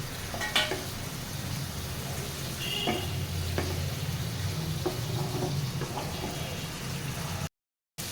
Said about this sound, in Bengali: সুন্দরভাবে এটা ভাজা হয়ে গেল মশলার সাথে।